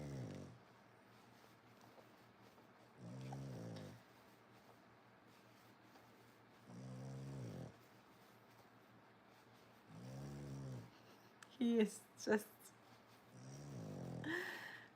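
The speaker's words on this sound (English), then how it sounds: "Sometimes I adjust their heads just slightly while they're sleeping so that it makes them stop snoring." Sleeping dog snoring in a quiet home: soft rhythmic snores repeat every three to four seconds, with a brief clatter and a few spoken words near the end.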